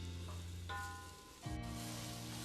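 Onions and garlic sizzle softly in a pan, a faint steady frying hiss under a low hum and a brief clatter midway, with no talking.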